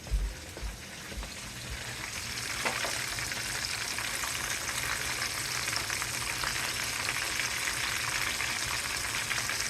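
Deer steaks fry in a pan with a continuous, close sizzle and crackle that builds after a few initial clatters and holds steady throughout.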